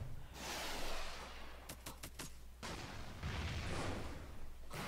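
Artillery firing in the strategy game REDCON: a cluster of sharp bursts around the middle, with a steady rumbling bed of battle noise throughout, loud and close.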